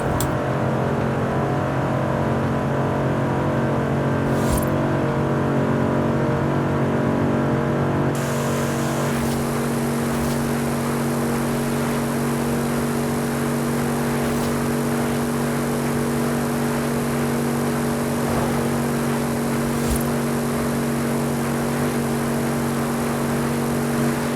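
An Audi RS 7 with a 4.0L 605 hp engine drives at night, its steady engine drone building into a louder, broadband roar partway through. The sound holds constant and close, with no talk.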